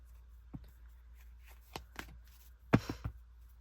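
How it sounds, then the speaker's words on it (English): Tarot cards being shuffled close by in a quiet room, a few soft riffling and tapping bursts, the loudest near the end. "So yeah, one more shuffle and then we'll get into it."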